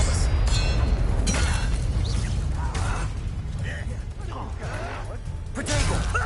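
Expelliarmus disarming spell cast during a combat fight in the Hogwarts Legacy video game on PS5: loud, dense bursts of magical whooshes, crashes and impacts layered over a continuous game soundtrack.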